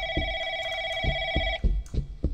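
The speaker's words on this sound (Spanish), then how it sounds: "Me llaman por teléfono, Brody." An old-style telephone bell rings in the horror video game Baleful, a bright sustained electronic ring that stops abruptly, followed and accompanied by soft thumping footsteps or knocks, alone with no voices.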